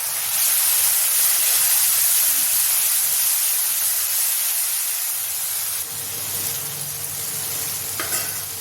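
Water poured into hot tomato masala in a pan for dal dhokli, a loud, steady steaming hiss and sizzle that holds throughout and softens slightly toward the end, close and with no talking.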